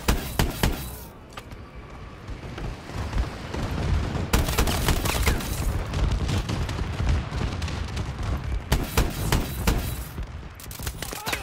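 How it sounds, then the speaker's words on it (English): Bombing run in the Call of Duty Advanced Warfare video game: dense rolling explosions and heavy booms mixed with rapid gunfire, loud and continuous with sharp blasts punctuating the din, no speech. "Bombing run incoming."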